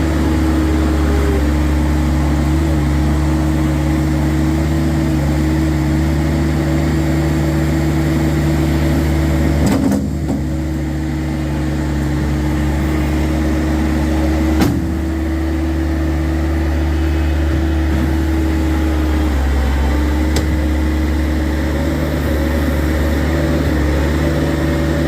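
Pickup truck engine running steadily while driving out to lay salt, a continuous low hum with constant tonal drone, close and loud, with a couple of brief knocks and no talking.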